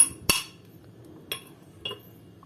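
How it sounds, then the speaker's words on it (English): Hammer strikes punching the valve of a Giyo bicycle tire pump during a valve repair: three sharp metallic taps spaced about a second apart, close and fairly faint over a low background hum, with no talking. "Then just use a hammer or seat post,"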